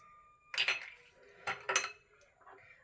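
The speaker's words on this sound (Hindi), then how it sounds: "अब एक एक अंडा हम तोड़ के चेक करके डालते जाएंगे।" Eggs cracked one at a time against a bowl and dropped into milk while making French toast; a few sharp, close taps and clinks in quick succession, with no talking.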